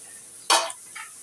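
Prawns drop into a pan of fried onions with a sudden hiss that crackles loudly, fades within a fraction of a second, and is followed by a smaller second sizzle.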